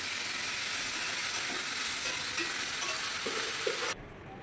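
Vegetables frying in a pan, a loud, even, hissing sizzle that runs steadily with a few soft stirring knocks near the end before it abruptly cuts off, no voices.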